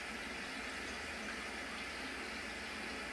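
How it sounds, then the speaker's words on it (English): Tap water running in a constant stream into a plastic film developing tank to rinse out chemicals: a steady, even hiss and gush with no breaks. "just have a nice constant stream of water going into the tank while I rinse all the"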